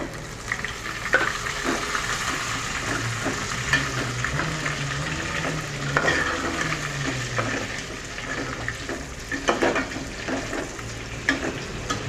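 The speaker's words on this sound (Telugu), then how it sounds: "మన ఎండ్రాయిలు కూడా బాగా ఫ్రై అయిపోయినాయి చూడండి" Crabs sizzle steadily in a pan for an Andhra-style gongura crab curry, a continuous close frying hiss broken by occasional clicks and scrapes of stirring.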